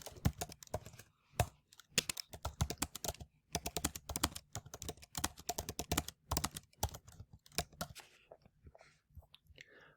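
Someone types a sentence on a computer keyboard, producing quick bursts of close, crisp key clicks with short pauses between words; the clatter is soft and quiet, with no talking.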